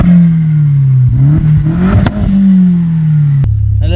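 An Audi S3 replica with a 1.8T turbo engine cranks and catches, then holds a loud, steady idle with a brief blip of revs and clatter before a sharp bump near the end.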